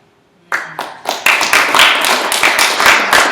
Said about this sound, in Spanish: A ella los aplausos.